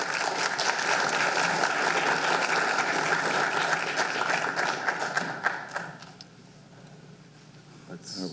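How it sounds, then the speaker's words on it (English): Audience applause for John Conley at a business and blockchain talk: dense, loud clapping that carries on for about five seconds, then thins out and fades into quieter room sounds. "round of applause for John Conley."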